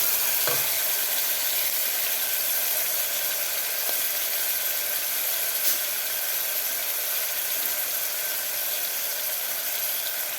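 Finely chopped tomato sizzling steadily in a pan while being sautéed until soft for a dhaba-style whole masoor dal, a constant broadband frying hiss with a few faint stirring clicks and no talking.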